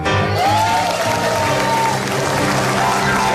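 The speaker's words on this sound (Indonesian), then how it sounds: "Jangan tepuk tangan dulu, jangan tepuk tangan dulu" Indonesian television comedy show studio audience claps in a dense, steady round of applause throughout, with crowd noise and a voice faintly underneath.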